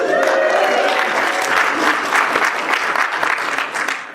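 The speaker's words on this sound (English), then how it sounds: "My first ever clapping applause" Steady applause from a convention audience welcoming a panel on lessons from supervillains, a full room clapping continuously for about four seconds before tapering off, with a faint voice early on.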